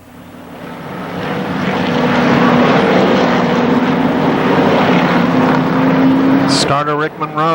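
Late model race cars at the Winchester Speedway season opener in 1995 roar around the track in a loud, sustained engine drone that swells as they close up. A voice briefly cuts in at the very end.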